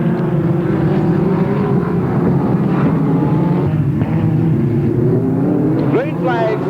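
Speedcars race around the track at the 1986 Ray Revell Memorial, a continuous loud, droning roar of several engines with rising and falling pitch and a brief whine near the end.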